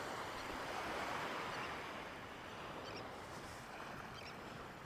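Ocean surf washes onto Lido Beach in Sarasota at high tide, a continuous broad wash of breaking waves with some wind buffeting, steady and moderately distant with no voices.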